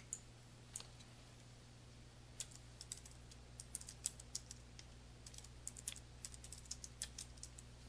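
A name for a folder being typed on a computer keyboard in Outlook 2013: quiet, irregular key clicks in short bursts over a steady background hum, with no talking.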